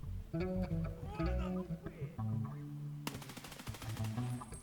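Rapid gunfire bursts in a first-person shooter game while raiding enemies, loud sharp shots rattling in quick succession with game effects, under a player's running talk.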